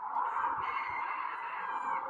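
A farm rooster crows once, sounding faint and distant with a drawn-out, nasal call that holds for about two seconds.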